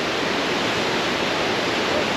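A river rushes below steps in a Norwegian nature reserve, a loud, steady broadband roar of flowing water with no pauses, close by and alone.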